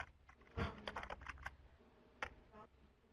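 Keys tapped on a computer keyboard in a quiet room: a short, irregular burst of light clicks with small pauses, soft and close, then a couple of isolated taps near the end.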